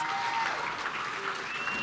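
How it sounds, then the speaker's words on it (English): Conference audience applauds the opening panelists in a short, steady burst of clapping heard from a little distance, fairly soft overall. "can we give all of them a big round of an applause?"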